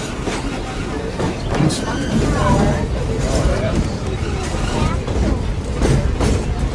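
The Walt Disney World Railroad steam train rolls around the Magic Kingdom toward Main Street, USA, giving a steady rumble with wheel clatter and occasional squeal, close and continuous, while voices talk over it.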